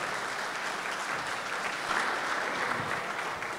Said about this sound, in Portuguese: Uma salva de palmas para o nosso presidente,